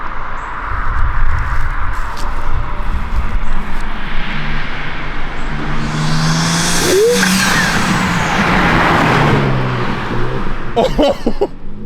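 A modified BMW M3 (G80) engine revs and roars steadily up close, with a brief higher whine partway through and a few sharp clicks near the end.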